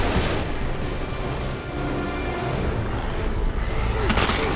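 Bomb explosion in the Gears of War 3 video game, a dense, loud roar of blast and rumble filling the whole clip, with a sharper burst near the end.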